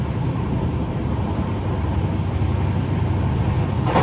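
The Saraighat Express running nonstop after Kamakhya produces a continuous, dense low rumble of motion, steady and fairly loud throughout with no voices.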